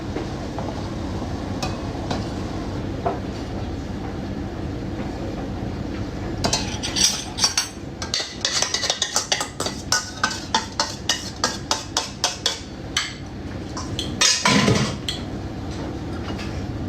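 Pots and metal lids clatter and clink nearby in a rapid, irregular run of sharp knocks, with a low steady hum underneath.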